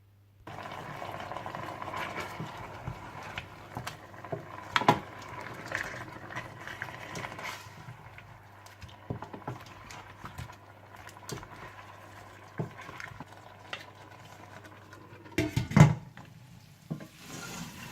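Mutton chops with a little salt and water simmer in a karahi, a soft steady bubbling with occasional louder pops and clinks of the pan, moderately close and without talk.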